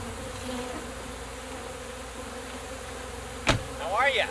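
Honey bees swarm around a hive cluster during a cut-out removal, a close, steady buzzing drone with a sharp knock near the end as the buzzing rises.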